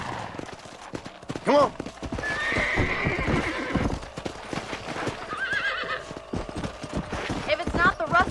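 Horses in the Red Dead Redemption video game hooves clip-clopping at a gallop with several sharp neighs and whinnies, close and loud, while someone speaks briefly over them.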